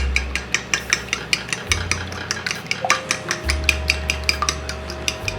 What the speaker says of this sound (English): All right, whisking.